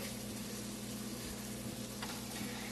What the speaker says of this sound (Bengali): আমি ভাজিটা বসিয়ে দিয়েছি চুলায় ফ্রোজেন সবজি